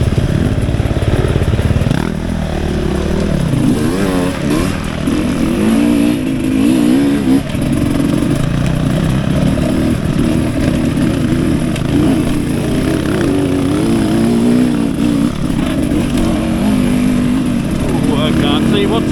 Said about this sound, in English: Here, our token 4-stroke KTM for the day.